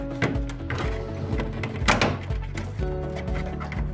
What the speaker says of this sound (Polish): Podważamy zatrzaski.